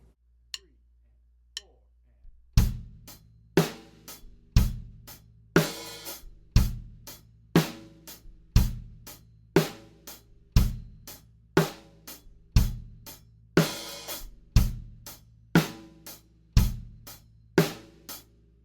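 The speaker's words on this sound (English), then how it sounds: "you need to close the hi-hat at the exact same time that you hit it with your hand" Crisp hi-hat chicks repeat at a slow, steady pace, each a short bright hit closed by the foot as it is struck, with a low drum thump under several of them.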